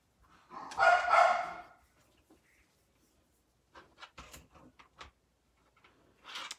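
A dog barks in a short burst at a house, followed by quieter scattered knocks and yelps, with a fainter bark near the end.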